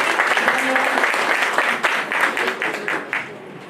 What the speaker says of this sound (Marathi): एकदा जोरदार टाळ्या झाल्या पाहिजे उमेश सरांसाठी